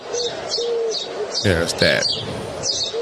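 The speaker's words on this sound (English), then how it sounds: "So the bird, when you hear the bird, it's that." A neighborhood bird repeats soft cooing and chirping calls in a steady rhythm, close and clear, while a person talks briefly in the middle.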